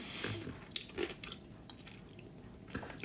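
Crunchy food is chewed close and quietly, with a few soft crisp bites and crunches early on before it fades to near silence.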